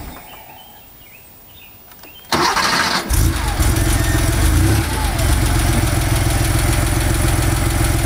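A 1988 Porsche 911 engine cranks and fires after a quiet moment, catching abruptly and settling into a loud, steady idle close by.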